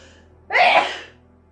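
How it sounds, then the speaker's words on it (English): A single loud sneeze close by, building quickly and trailing off, with near silence before and after. "I'm gonna sneeze."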